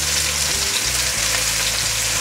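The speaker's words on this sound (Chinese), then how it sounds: "锅内放入适量的油，把豆包卷放进来煎，" Tofu skin rolls frying open side down in oil in a pan give a steady, close, full sizzle that runs unbroken from start to finish.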